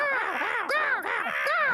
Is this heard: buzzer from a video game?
no